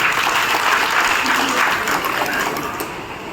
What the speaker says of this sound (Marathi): त्याला जोरदार टाळ्या स्वागत करा.